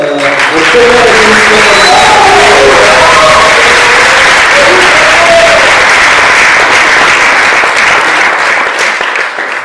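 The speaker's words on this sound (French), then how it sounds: "je vous invite à vous applaudir" Loud, dense applause from a demo day audience at a coding bootcamp, with some cheering, sustained steadily for nearly ten seconds without a break.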